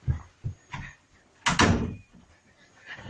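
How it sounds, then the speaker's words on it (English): An indoor door is pushed shut with one solid thud after a few soft knocks and shuffles, followed by a quiet room. "I'm just closing the door because someone's hoovering."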